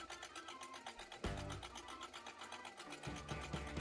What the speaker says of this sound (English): I sewed as close to the strap edge as I could to secure all of the strap's raw edges inside.